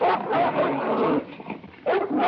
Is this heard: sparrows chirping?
no